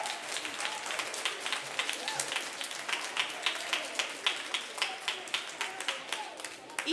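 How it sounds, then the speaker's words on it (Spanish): A school audience claps for the Colegio Ponferrada 12 team at a quiz contest, a fairly soft but steady patter of hands with a gently pulsing rhythm throughout, no voices over it. "Un aplauso para ellos."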